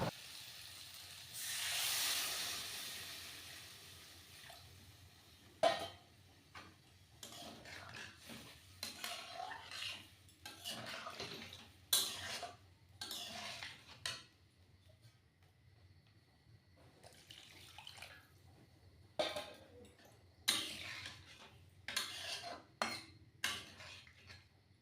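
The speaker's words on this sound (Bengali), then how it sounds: "পরিমাণ মতো জল দিয়ে এটাকে সিদ্ধ করে নেব" Mushroom curry cooking in a pan, water poured in, opens with a soft hiss and sizzle, then sharp metal clatter and scraping of a utensil against the pan comes in irregular bursts, close in a quiet kitchen.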